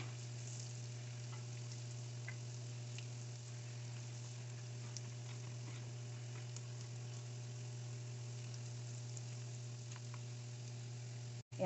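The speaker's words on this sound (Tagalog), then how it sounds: "Iloko lang natin ang garlic." Garlic softly sizzles in butter in a pan, a quiet steady frying hiss with faint crackles and a constant low hum underneath, no voices.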